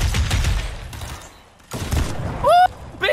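Short volleys of gunshots in Fortnite, loud and close, separated by a brief quiet gap, with a rising whine near the end.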